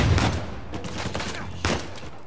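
Pistol gunfire in the video game Uncharted 4, a handful of sharp, fairly loud shots in quick uneven succession among muffled game background noise.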